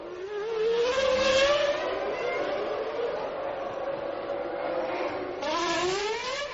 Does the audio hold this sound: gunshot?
no